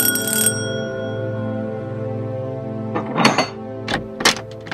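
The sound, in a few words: doorbell ringing in a TV serial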